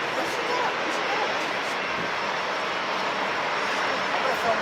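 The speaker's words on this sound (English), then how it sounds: "We got Speedbird coming in, 777-3 from London, LHR" A British Airways Boeing 777-300 jet airliner arriving from London roars past in a continuous, loud, even engine rush that holds steady throughout.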